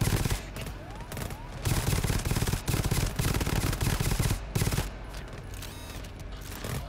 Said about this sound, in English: turrets are lighting them up